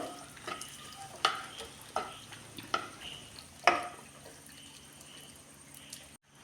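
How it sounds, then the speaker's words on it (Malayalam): Grated coconut and onion fry in a pan for a ginger curry. A steady sizzle runs underneath, and a spoon stirs and scrapes with several sharp clinks against the metal, close by with no talking. "തേങ്ങയും ഉള്ളിയും കൂടെ നന്നായിട്ട് തന്നെ വറുത്തെടുത്തിട്ടുണ്ട്"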